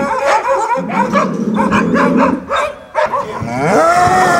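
Two fighting bulls on a Dalmatian farm near Trilj bellow in long, loud, close lowing calls, several drawn-out moos overlapping with some sharp barking from a dog.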